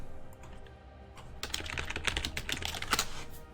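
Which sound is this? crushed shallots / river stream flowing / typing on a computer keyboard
typing on a computer keyboard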